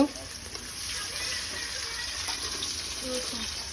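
Onions fry in hot oil for a Bengali kachkola bharta, a steady close sizzle running throughout while people talk over it.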